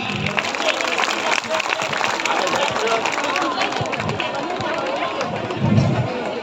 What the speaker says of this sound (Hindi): फिर से एक बार जोरदार तालियां।